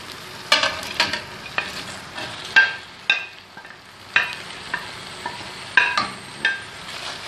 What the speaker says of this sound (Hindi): अब इसमें हम चिकन ऐड कर देंगे।